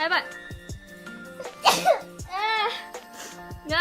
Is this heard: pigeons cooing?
no